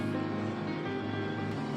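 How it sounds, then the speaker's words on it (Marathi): Electric mixer grinder running steadily, grinding masala for a Holi-special dish, a continuous loud motor whir with dense harmonic hum that holds unbroken throughout. "आता मी सर्व वाटून घेते."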